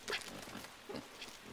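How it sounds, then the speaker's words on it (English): A pig grunts and squeals in the video game Inside, with a few short bursts and a louder oink near the start, fairly quiet and alone. "I've just been murdered by a pig."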